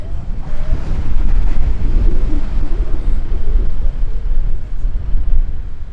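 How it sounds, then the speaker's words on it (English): Strong wind buffets the microphone in a continuous low roar on a beach, with surf rumbling underneath and no voices. "It's a little bit windy."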